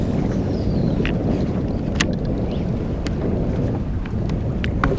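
Strong wind roars steadily over a fishing boat out on the water, loud and close with heavy buffeting against the microphone and a few faint clicks and rattles on top.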